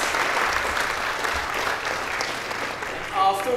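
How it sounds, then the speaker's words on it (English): Hearty applause from an audience at a 2019 pre-release event, a steady dense clapping wash throughout with voices mixed in and a brief louder burst near the end. "giving a hearty round of applause to Mr. Wayne Chance"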